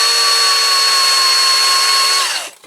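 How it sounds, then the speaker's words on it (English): A power drill whines steadily and loudly, drilling out a rivet on a Corgi Toys Hillman Imp diecast model, its pitch dropping as the motor winds down at the end. "I'm going to have to drill it out, so here goes."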